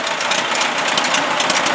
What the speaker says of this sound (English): There's that tractor running again